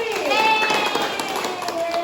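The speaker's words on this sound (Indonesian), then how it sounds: "tepuk tangan untuk Mantri" A classroom of students claps for a classmate during a lesson, with brisk, scattered clapping mixed with children's voices and chatter throughout.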